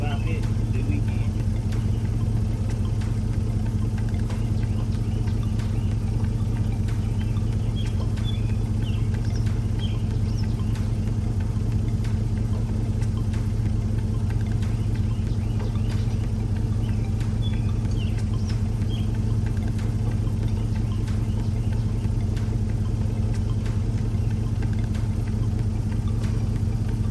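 A truck engine idles with a steady, even low hum and a faint rattling texture, running continuously at moderate volume after sitting unused for two weeks.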